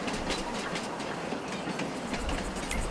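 A train locomotive runs in Farming Simulator 22 with a continuous rumbling roar and rhythmic clickety-clack of wheels over rail joints. It is steady and fairly close throughout, with no speech.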